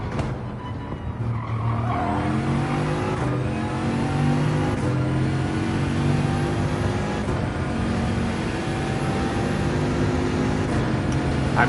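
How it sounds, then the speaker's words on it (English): A De Tomaso racing car engine in the video game Gran Turismo 7 at Monza revs and shifts through gears, rising whines repeating over a steady roar, with occasional tire squeal, loud and continuous. "I'm short shifting this car a bit."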